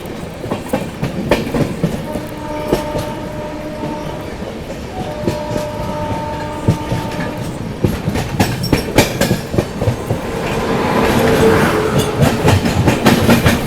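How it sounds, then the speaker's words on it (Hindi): Delhi Yeshwantpur AC Duronto Express running through Bhopal Junction without stopping, loud rhythmic clickety-clack of wheels over rail joints with horn tones sounding twice, the rumble swelling louder toward the end. "भोपाल जंक्शन बिना रुके स्किप करते हुए अपनी ट्रेन आगे बढ़ रही है।"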